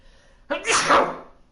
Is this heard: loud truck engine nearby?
no